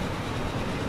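An Amtrak train led by a GP40-2 locomotive passes on the Chicago to Buffalo line in the video game Transport Fever, heard as a steady, loud rolling rumble that fills the short moment, with no speech.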